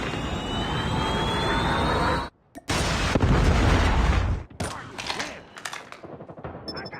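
Call of Duty gameplay with a Predator missile strike and gunfire: dense, loud bursts of shots and booming blasts, a brief drop to near silence around two seconds, then heavy blasts and scattered shots trailing off.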